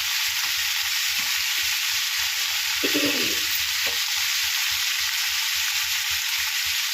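Ivy gourd frying in oil makes a loud, steady hiss and sizzle throughout, with a few brief stirring scrapes in the middle.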